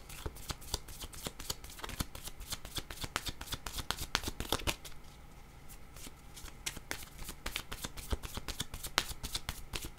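Tarot cards shuffled by hand in a close, dense run of crisp riffling and slapping strokes that carries on steadily for about ten seconds, with a brief softer patch midway and no talking.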